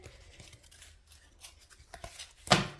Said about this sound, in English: I'll show you what pops out here as I'm shuffling.